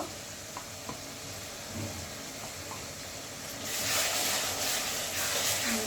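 Ground cumin and coriander paste hits a hot pan of oil with ginger-garlic paste for a beef dal, giving a soft steady sizzle that swells louder and brighter near the end, with no talking.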